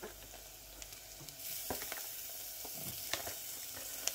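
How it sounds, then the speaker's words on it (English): Minced beef with 20% fat fries for chilli con carne in a pan with softened onions and garlic, a quiet steady sizzle marked by occasional scraping clicks as it is broken up and stirred. "So now we're going to put in the minced beef."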